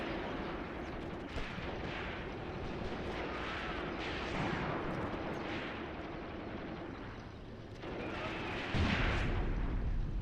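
Artillery and gunfire in a WW2 battle simulation video game set in the Battle for Leningrad, a dense continuous roar of distant booms and rumbling blasts with a heavier impact near the end.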